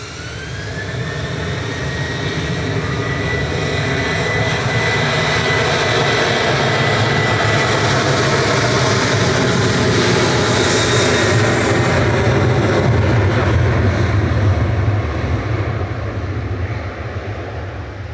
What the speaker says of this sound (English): See the air tanker soon